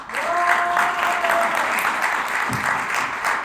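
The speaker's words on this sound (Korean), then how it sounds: "이봉규 대표님께 박수 한번 해주시죠" Audience applause at a forum on fair elections, a steady dense wash of clapping from a seated crowd that holds at an even level for several seconds, with faint voices underneath.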